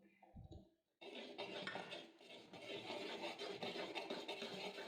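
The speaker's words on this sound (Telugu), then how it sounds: "స్టవ్ ఆఫ్ చేసి మనం రెడీ చేసుకున్న బియ్యం పిండిని ఇందులో వేసి ఉంటలు కట్టకుండా కలుపుతూ వేసుకోవాలి" Rice flour being stirred into hot sugar syrup in a pot for ariselu, a steady scraping and rubbing of a spoon against the metal, close and continuous after a brief quieter start.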